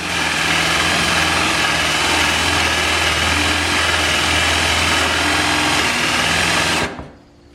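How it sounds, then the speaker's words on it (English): A power drill spinning a Forstner bit into wood, a steady loud whine and grinding that holds evenly for several seconds before cutting off abruptly, close by with no talking. "I'm going to drill a couple more impressions with my Forstner bit"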